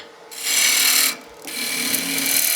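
A wood lathe tool takes a peeling cut on a spinning top, two bursts of bright shaving hiss broken by a short pause, loud and close, with no voices.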